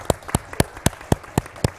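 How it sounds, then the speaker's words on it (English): Handclaps from a small group at a virtual charity relay event, about eight evenly spaced claps in under two seconds, crisp, close and fairly quiet, with no cheering. "Can we have everyone here give him a huge round of applause?"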